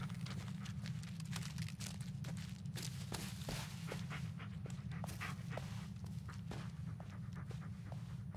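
A dog in the Blair Witch video game pants rapidly and steadily at close range, with a low droning ambience underneath and occasional soft thuds that sound like footsteps.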